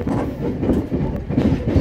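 Commuter train rolling into Jatinegara transit station, a steady close rumble of wheels and railcar running noise with a faint rhythmic clatter throughout.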